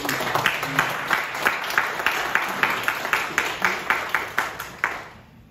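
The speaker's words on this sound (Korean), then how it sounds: "우리 박수 한 번만 이 시간에 한번 쳐주시면 좋겠습니다" A seated crowd at a Korean Christian businessmen's association installation ceremony claps in a loose, rhythmic round, individual claps standing out in near-regular beats before the applause thins and stops abruptly.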